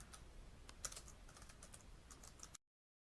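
Quiet, steady typing on a computer keyboard, a run of soft, rapid key clicks with a few sharper taps, close up and alone before stopping abruptly.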